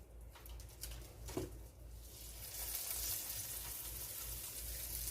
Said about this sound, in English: I hear it sizzling.